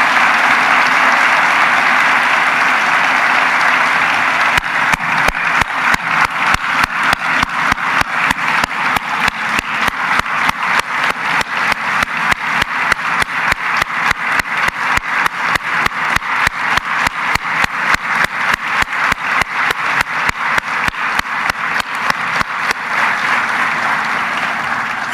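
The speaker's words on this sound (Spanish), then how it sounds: "Un aplauso a todos," Long, loud applause for doctors, nurses and health care workers at a presidential accountability address, starting as a broad wash of clapping and then settling into a rhythmic, unison beat that keeps going to the end.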